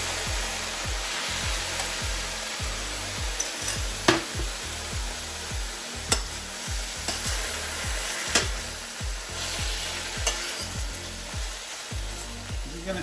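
Trumpet mushrooms sizzle and fry in a pan with jerk sauce, a steady close crackle broken by repeated stirring scrapes and occasional sharp clicks against the pan.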